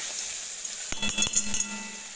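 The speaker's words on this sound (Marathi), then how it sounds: "हे मसाला वाटल्याला भाजून घ्यायचा आहे बघा" Ground green masala roasts in hot oil in a pan for a village-style chicken dish, giving a steady soft sizzle with a few quick stirring scrapes and clinks partway through.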